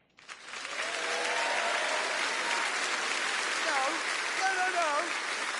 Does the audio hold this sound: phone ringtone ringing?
no